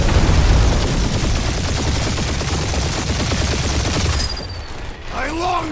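Rapid sustained gunfire from many turrets in the video game Marvel's Guardians of the Galaxy, a loud dense fusillade of shots with booms, then a brief sci-fi whistle and warbling effects near the end.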